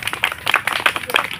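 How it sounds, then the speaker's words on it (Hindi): A small group at a yoga class celebrating Teachers' Day claps for the teachers, a brief burst of uneven hand claps close by. "एक बार जोर से तालियां"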